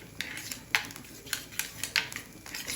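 A spoon stirs yogurt with chili flakes and oregano in a bowl, giving a run of quick, rhythmic clinks and scrapes against the bowl with no voice present.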